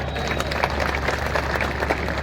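Applause from a large audience at a Hindi poetry recital (kavi sammelan) with Dr. Kumar Vishwas at Jain College, Vidisha, a dense steady wash of many hands clapping throughout, fairly loud and continuous.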